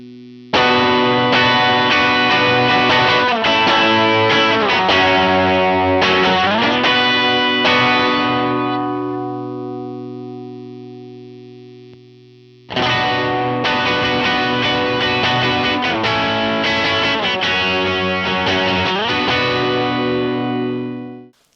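Distorted electric guitar played through a Portafilter Dual Overdrive pedal with the mids set to red, rhythmic chugging chords ringing out, a long sustained decay, then the riff starts again.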